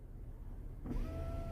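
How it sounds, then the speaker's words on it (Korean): Passenger-side power window of a Hyundai Grandeur GN7 closing, a motor whine starting abruptly partway through and holding steady with a rising hum inside the quiet cabin. "조수석 창문을 닫을게요."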